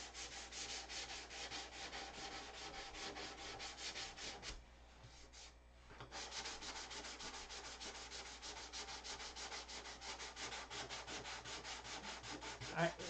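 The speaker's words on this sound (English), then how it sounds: "Sanding out my solid wingtip mistakes." Continuous sanding with steady back-and-forth rubbing on a solid wood wingtip of a model aircraft, close and fairly loud, with a brief pause near the middle before the strokes resume.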